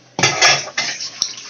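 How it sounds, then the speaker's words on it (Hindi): Dishes being washed in a home kitchen: a few sharp clatters of steel utensils and pots knocking together, close and loud, with scraping between the knocks and no talking. "मम्मी बर्तन धो रहा है"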